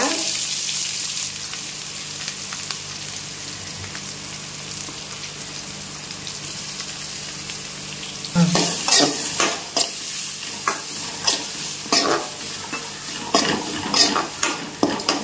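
Chopped small onions sizzle and crackle steadily in a hot pan, then a utensil scrapes and stirs, sending sharp bursts of frying noise.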